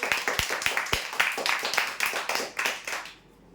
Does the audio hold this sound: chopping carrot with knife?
no